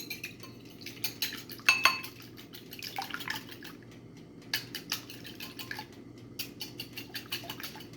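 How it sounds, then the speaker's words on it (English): Eggs whisked briefly in a bowl while making eggplant parmesan, quick irregular taps and clinks of a utensil against the dish, fairly close and moderately quiet, with no one speaking. "let's give this a quick whisk"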